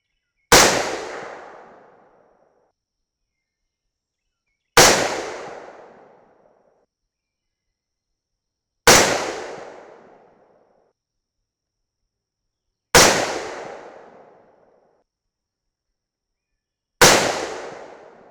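Five sharp .308 Winchester rifle shots firing 175gr Sierra Match King loads over IMR 4064 powder, evenly spaced about four seconds apart, each a loud crack with a short decaying echo, with silence between and no talk.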